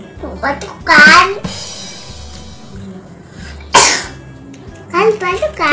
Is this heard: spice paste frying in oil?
no